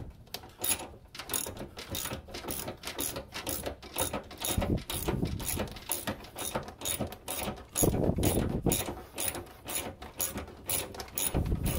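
Bolt being worked off the front bumper cover of a 9th-generation Impala with a ratchet, a quiet run of rapid clicking pawl strokes in uneven bursts, close up with no talk.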